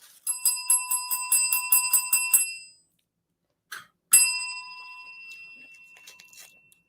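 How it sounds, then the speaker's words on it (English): A small bell rings in a quick run of about eight bright, even dings, then after a pause a single clink against a phone wire sets off one sharp ring that fades in a long resonant tail. "And the bell hits the wire coming out of my phone."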